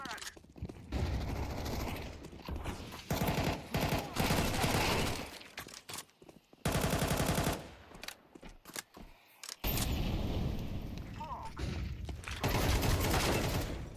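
Counter-Strike 2 match with bursts of gunfire and sharp explosive blasts, including a thrown flashbang grenade, loud and dense in rapid succession with brief gaps.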